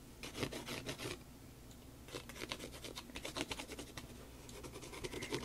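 Close, dry scratching of a colored pencil on paper in quick bursts of short strokes, pausing briefly between runs, with no voices.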